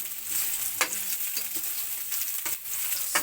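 Stir-frying in oil left over from cooking squid, a continuous close sizzle broken by several sharp scrapes and clatters of a utensil against the pan.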